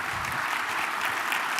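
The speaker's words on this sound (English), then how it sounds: "No, you can applaud for me." Brief, dense applause from a conference audience at AWS re:Invent 2015, a short continuous wash of clapping heard at moderate distance with no talk over it.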